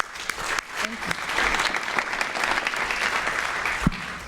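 A crowd at a youth summit competition gives a finalist a round of applause, a steady, even wash of clapping that fills the room for a few seconds.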